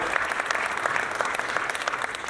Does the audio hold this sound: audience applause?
yes